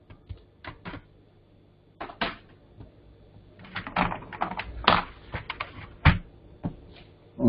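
Fingers type on a computer keyboard in uneven bursts of crisp, close clicks and clacks, with short pauses between runs of keystrokes and no talking.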